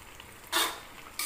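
A dish is stirred in a pan after sugar goes in: two short, bright bursts of scraping and sizzling rise over quiet room tone, close by.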